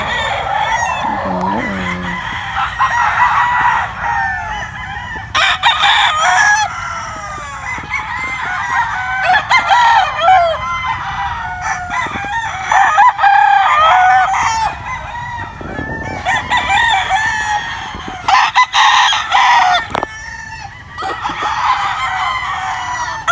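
Roosters crow repeatedly and chickens cluck at a gamefowl farm of grey fighting cocks, a dense, loud chorus of overlapping calls close by with no talking.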